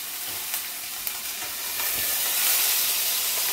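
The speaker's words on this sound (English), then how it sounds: "Alright, so let's get a nice sear on that." Beef sizzles as it sears in a hot pan for beef Wellington, with a steady, bright hiss that swells slightly louder partway through, with no talking.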